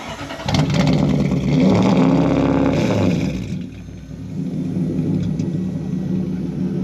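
A V8-swapped Toyota Celica engine runs loud and close, rumbling with a revving surge over the first few seconds before dropping briefly and settling back into a steady idle.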